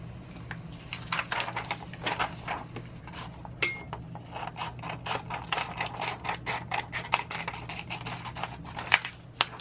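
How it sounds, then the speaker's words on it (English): Scissors quickly trimming excess vinyl carrier sheet, a close, rapid series of crisp snips and light metallic clinks repeating steadily with no talk. "I'm going to just go in with my scissors really quick and trim off the excess carrier sheet"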